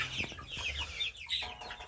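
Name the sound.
chicks pecking and clucking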